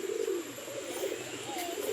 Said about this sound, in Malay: Merpati lah makan.